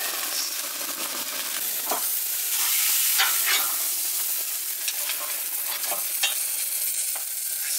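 Two steaks sizzle over a barbecue fire at an off-grid cabin, a steady close crackle and hiss broken by occasional sharper pops and spits, with no talk.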